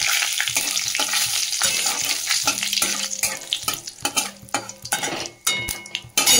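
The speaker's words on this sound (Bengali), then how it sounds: "ওই তেলের মধ্যেই আমি একটু জিরে ফোড়ন দিয়ে দিলাম" Cumin seeds and bay leaf tempering in hot oil in a home kitchen, giving a steady close sizzle with a spoon stirring and scraping against the pan and a few metallic clinks, no talking.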